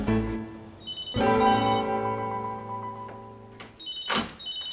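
A telephone rings at midnight with a couple of bright, electronic trilling bursts separated by a pause, close and fairly loud, with soft thumps mixed in.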